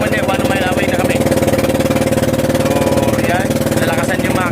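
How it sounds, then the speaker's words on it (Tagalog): A fishing boat engine runs loud and steady at sea off Bicol, its dense, even mechanical drone continuing throughout, with voices talking briefly over it. "nalakasan yung makina, no?"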